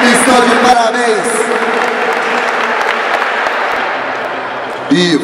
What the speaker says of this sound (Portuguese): salve de palmas para esses dois guerreiros aqui que fizeram uma grande luta